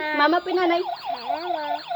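A toy ambulance siren wails in a close, loud, warbling electronic tone, with a voice speaking over it briefly.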